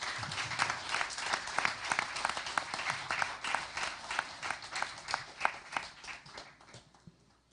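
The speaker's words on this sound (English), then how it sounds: "Let's give them all a big round of applause for a job well done." An audience claps steadily at the Spelling Bee of Canada championship, dense applause that holds for several seconds before tapering off near the end.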